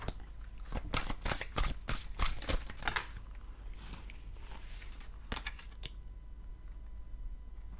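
Tarot cards are shuffled close up in quick bursts of crisp riffling flutters, then a pause and a few final soft taps and slides, with no voice over them.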